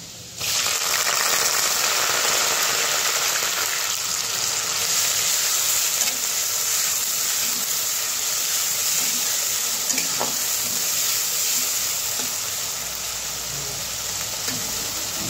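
Garlic and onion fry in hot oil in a pan, giving a loud, steady, close sizzle that starts abruptly and holds throughout, with a faint clink near the middle.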